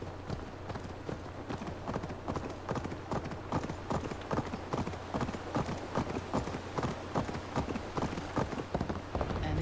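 Hooves of a galloping horse in Assassin's Creed Valhalla clop in a steady, rapid rhythm, close and continuous, with no talk over them.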